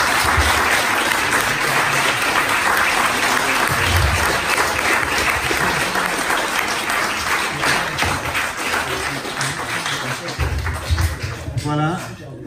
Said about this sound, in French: Donc je crois que nous on peut applaudir vraiment tous les deux.